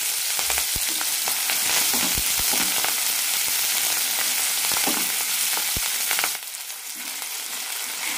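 About twenty small shallots fry in a pan for a drumstick and onion perattu, giving a steady, dense sizzle with occasional stirring clicks and scrapes and no talking.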